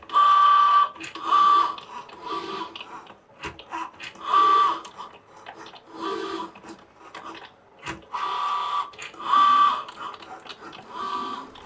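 A Cricut Joy cutting machine slices out nine pieces, its motor whirring and buzzing in repeated bursts with clicking carriage movements, steady and close with no talking.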